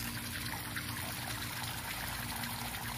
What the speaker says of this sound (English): You can see here the water is starting to trickle out